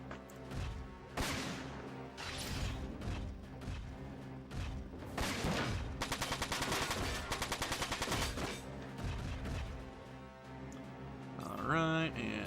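Shotgun blasts and gunfire in the mech video game Front Mission 4, loud repeated bursts and rattling volleys over game music and effects, ending in a metallic sweep.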